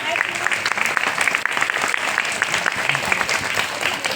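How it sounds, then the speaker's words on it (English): A school crowd at a Republic Day celebration gives a lively round of applause to welcome a guest, with continuous dense clapping that stays loud and close for the whole stretch. "So let's give a big applause and welcome."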